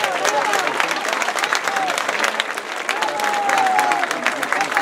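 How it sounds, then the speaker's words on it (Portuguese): An audience at a tourism shop event in Alpedrinha gives a round of applause, brisk continuous clapping with a few whistles and light cheering mixed in, moderately loud and even. "Mais uma salva de palmas"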